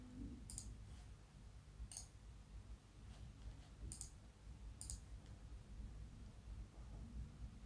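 Computer mouse clicks faintly and crisply a few times while working in a spreadsheet, isolated ticks over a low, steady background hiss.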